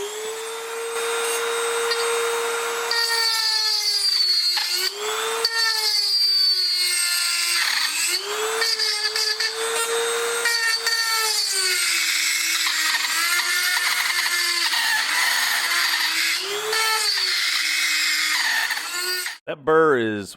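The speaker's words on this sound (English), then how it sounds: "pull out the Dremel tool with the carbide burr on it. And not quite as fast, but definitely it will work, and it does remove material fairly quickly" A Dremel rotary tool fitted with a carbide burr grinds metal on a hydraulic coupler guard, a loud sustained high whine whose pitch dips and rises as the burr bites, running almost continuously before cutting off at the end.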